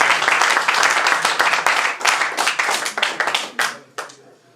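At a Congolese wedding ceremony, the congregation claps in a lively, dense burst that thins into a few scattered, separate claps and then stops, close and loud.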